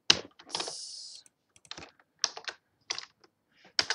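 Bursts of typing on a computer keyboard while writing Java code for a Fibonacci sequence, close and clear, with quick clusters of keystrokes separated by short pauses.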